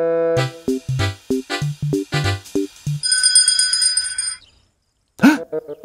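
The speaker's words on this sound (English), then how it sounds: "You see, Ellie, if you need anything, you can ring that little bell and Pocoyo and Pato will come to help you." Small bell in the Pocoyo cartoon, rung in a quick series of bright, clear tones, followed by a brief ringing tone and a short vocal sound after a pause.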